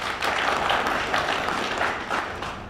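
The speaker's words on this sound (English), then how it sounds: "I'll ask that we give them a round of applause" Audience applause at a mayor's state of the municipality address, a steady wash of many hands clapping with slight swells, sustained throughout.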